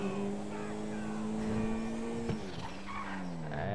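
A Karin Futo, modeled on a Toyota Corolla, accelerates while drifting in GTA V, its engine a steady rising tonal whine with some tire noise, close and continuous.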